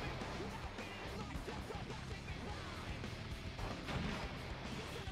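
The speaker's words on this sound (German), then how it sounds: "Die Granaten-Explosionsdinger treffen mich anscheinend zum Glück nicht" Grenade explosions in the video game Evolution Snowboarding, a dense stream of booms and crackling bursts under busy game sound and music, fairly loud and continuous throughout.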